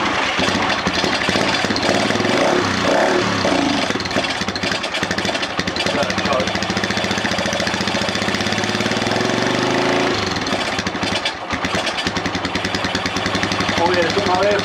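A Lifan Earth Dragon 125 motorcycle engine runs with no air filter fitted, a loud, steady, rough buzzing drone that dips briefly and then picks back up, with voices heard over it.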